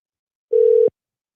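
Telephone dial tone: a single short, steady pure tone lasting about a third of a second, loud and clean, ending in a click, with silence around it.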